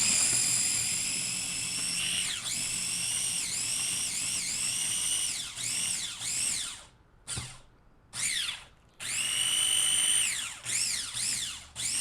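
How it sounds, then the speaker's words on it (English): Food being ground in an electric grinder, a loud high motor whine in repeated bursts that rise and dip in pitch, with short pauses between runs and no speech. "Then we're going to grind these guys, like big time."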